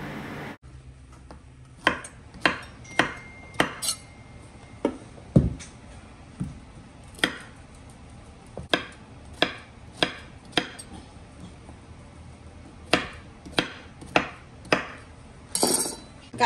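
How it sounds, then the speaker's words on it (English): A kitchen knife chops onions and squash on a cutting board in a string of sharp, distinct knocks at an uneven pace, some close together and some spaced apart, with a quiet room behind. "Everybody knows how to cut up onions and squash."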